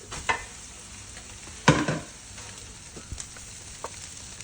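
Cooked rice stirred into a frying pan with the other ingredients for fried rice, a soft sizzle underneath with a few sharp scraping clatters of the utensil, one louder scrape midway.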